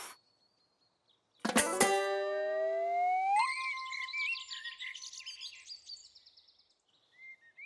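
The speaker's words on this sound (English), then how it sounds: "A bird! I've spotted a bird!" Cartoon bird chirping in a children's animated show, a sudden bright whistle sweeping upward followed by a series of quick, clear tweets and trills, alone with no talking.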